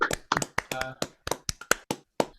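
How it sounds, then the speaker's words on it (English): A few people clap for a performer at a live-streamed Thursday night music show, giving a sparse, uneven patter of separate claps that is close and fairly soft. "Come on now, applaud for her."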